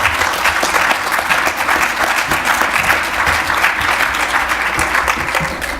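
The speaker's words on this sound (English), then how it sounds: "That was a very generous applause for just taking over for David" Loud, sustained applause from a lecture audience welcoming a new speaker, dense clapping filling the room evenly from start to finish with no talk over it.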